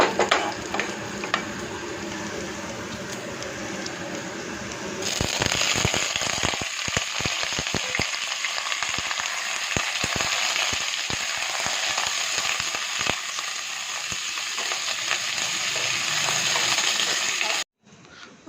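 Chicken sizzles and crackles in a pan on high heat. The frying grows loud and dense after a quieter start, with sharp pops scattered throughout, and ends abruptly.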